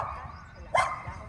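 Dogs bark in a short burst partway through, close and fairly loud, with a low murmur of people talking around them.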